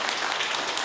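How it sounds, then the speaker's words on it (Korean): Brief burst of audience applause at a Catholic faith class, a dense wash of many hands clapping at moderate distance, with no speech. "그분 위해서 한번 박수 한번 쳐주시면 감사하겠습니다"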